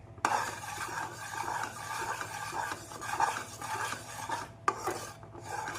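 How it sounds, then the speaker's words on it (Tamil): Continuous scraping and rasping of a spoon working a thick gram flour and sugar mixture in a pan over medium flame for Mysore pak, steady and close, with a couple of sharp knocks. "நாம் சேர்த்து கைவிடாமல் கிளற வேண்டும் நாம் மீடியம் ஃப்ளேமில் வைத்து கிளற வேண்டும்"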